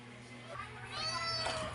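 A few cats meow while waiting for food, their calls faint and partly under a person speaking nearby.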